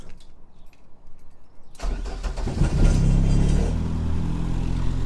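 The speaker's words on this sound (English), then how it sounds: "it ain't been started up for a little while, so I thought I might as well give it a start up" A Ford Escort RS Turbo cranks and catches on the first try, then settles into a loud, rumbling idle with a throaty exhaust, heard up close after a brief quiet lead-in.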